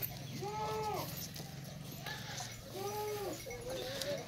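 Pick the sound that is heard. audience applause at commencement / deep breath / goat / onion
goat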